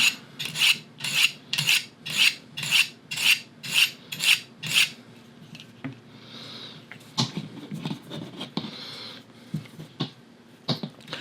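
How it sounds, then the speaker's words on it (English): A knife is drawn across the 400 grit surface of a Work Sharp Folding Field Sharpener: about nine even, rhythmic rasping strokes, followed by quieter, irregular scraping and handling noises. "We'll go back to the 400 grit again one time."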